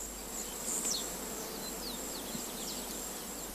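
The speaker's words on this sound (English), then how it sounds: "how a bee approaches a flower with her antennae stretched forward" An oil-collecting bee buzzing as it approaches a flower, a thin high insect whine with shifting pitch sweeps, moderately near and steady over a faint background hiss, no voices.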